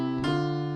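Sustained gospel piano chord played with both hands, with a fresh attack partway through, notes ringing together and blending, played clearly with no voices.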